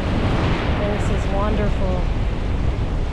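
Ocean waves break on a sandy beach, a continuous loud wash of surf and wind buffeting, while someone briefly speaks over the roar.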